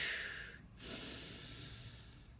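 A single deep breath drawn in, a soft airy rush that fades briefly before a steadier, quieter breathy hiss continues, close and alone with no talk.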